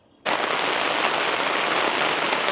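Steady rain pours down outdoors in Manchester, a dense, even hiss that begins abruptly and continues without pause, close and fairly loud, with no voices.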